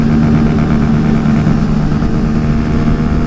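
A car engine holds at about 9,000 RPM, past its 8,000 redline, producing a loud, sustained, steady drone with a strong constant tone, close and unbroken for a few seconds.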